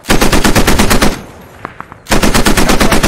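Machine gun fire in the World War II shooter Post Scriptum, loud rapid bursts of rattling shots, pausing for about a second with a few distant pops before the sustained firing resumes.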